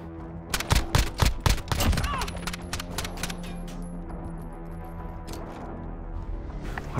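Rapid gunfire in the Call of Duty Modern Warfare PC beta, a quick burst of loud close shots followed by quieter scattered shots and game sounds.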